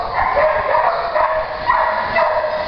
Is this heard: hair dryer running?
no